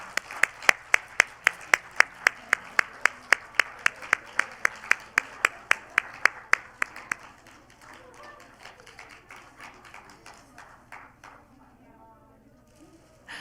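An audience at the Korean Women Journalists Association's 60th anniversary ceremony claps in a steady, even rhythm for about seven seconds, the crisp beats then stopping and leaving a quiet murmur of the hall.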